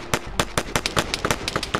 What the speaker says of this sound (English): Looks like Op4 a little bit surprised at where the gunfire is coming from